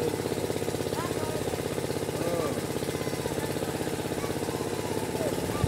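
A fishing boat's motor chugs steadily and loudly close by, a continuous mid-pitched engine throb with a fast regular pulse that holds for the whole stretch.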